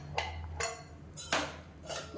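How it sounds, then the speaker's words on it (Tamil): Metal clanks from a pressure cooker lid being fitted and closed over kootanchoru in a home kitchen: four sharp knocks, spaced irregularly, close and moderately loud over a low background hum. "இப்போ வந்து மூடி வச்சிடலாம்."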